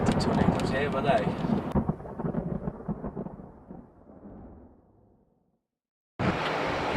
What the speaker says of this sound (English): I wouldn't want to be in this storm.